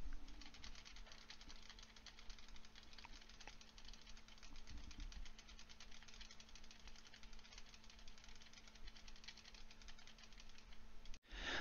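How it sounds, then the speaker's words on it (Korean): Keyboard keys and mouse buttons are pressed in a quick, steady stream of faint clicks and taps, picked up by a SteelSeries Arctis Pro Wireless headset microphone over a low background hum. "키보드와 마우스 버튼을 눌러보도록 하겠습니다."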